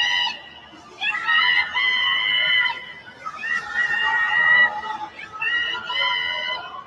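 Distant crowd of Palestinians in Gaza screaming and wailing in overlapping high-pitched voices, rising and falling in several sustained bursts with brief pauses between them.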